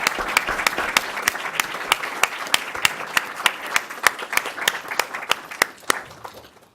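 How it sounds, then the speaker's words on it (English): A small audience gives a round of applause for speakers at the end of a discussion on Brazilian public opinion, with distinct, sharp claps in a steady rhythm that gradually thin out and stop. "a round of applause for our discussions and our speakers"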